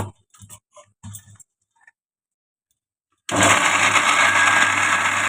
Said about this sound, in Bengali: আদা, রসুন, পেঁয়াজ, টমেটো, কাঁচা লঙ্কা এটা পিষে নেবো